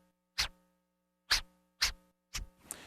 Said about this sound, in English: a stab basically sounds like this.